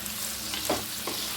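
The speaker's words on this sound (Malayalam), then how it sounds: "അടുത്തതായി നമുക്ക് മുന്തിരി വറുക്കാം." Raisins frying in oil in a pan over low heat while making biryani, a steady close sizzle with a couple of brief louder bursts as the fruit is stirred; no talking.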